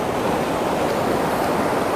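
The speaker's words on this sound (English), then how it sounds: "The water is kind of fast this close to me." Fast-flowing water of Esopus Creek rushes close by in a steady, dense hiss with no pauses.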